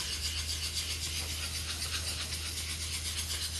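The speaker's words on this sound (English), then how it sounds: "So I found my sanding sponge, which works real nice. I am continuing on with the 320 grit." A 320-grit sanding sponge rubs acrylic by hand in a steady, close, even rasping hiss with a low hum beneath and no talk.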